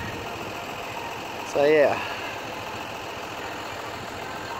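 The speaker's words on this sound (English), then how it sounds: "You can hear me over the tractor." A farm tractor engine idles steadily nearby in an orchard, a low continuous drone under a man's brief spoken remark, with a short louder swell from the engine partway through.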